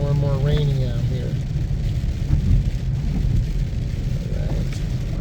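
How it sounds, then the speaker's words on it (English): Rain falling on a car while it is driven, a steady broadband hiss and drumming of drops with low road and engine rumble underneath, continuous and fairly loud throughout, with faint voice-like tones near the start. "it's becoming more and more rainy out here"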